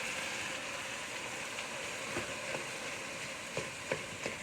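Sausage frying with onions in a pan makes a steady, quiet sizzle throughout, with a few soft clicks and taps of stirring near the end.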